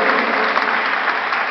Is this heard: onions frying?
no